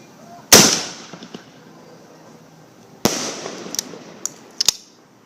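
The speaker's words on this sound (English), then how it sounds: "I still took the holiday as an opportunity to shoot fireworks out of my grenade launcher." Fireworks launched from a grenade launcher: a sharp loud blast, a quiet pause, then another bang followed by a scatter of crackling pops and bursts fading off in the distance.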